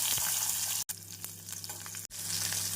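Garlic and onion fry in hot oil for a pepper-garlic kuzhambu, a soft continuous sizzle with a steady hum beneath, broken by two brief silent gaps.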